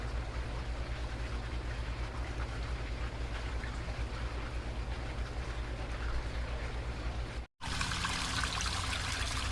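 Water from a garden stream pours and trickles into a koi pond near bog gardens, a steady, dense splashing wash with a brief dropout near the end.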